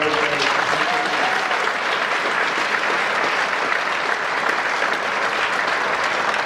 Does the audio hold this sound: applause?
yes